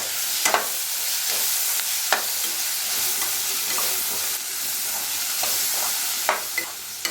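Onions and tomatoes sauté in a pan for Bombay chutney, a steady close sizzle and hiss with a few sharp scraping stirs of a spoon against the pan, and no voices.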